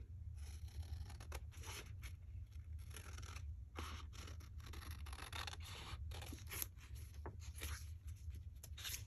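Scissors cut paper for a shabby pocket booklet in a series of close, crisp snips and scraping slides, irregular but frequent, with no voices over the cutting.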